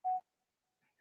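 A mobile phone gives a short, loud electronic tone as it is switched to mute, followed by two faint, brief blips near the end.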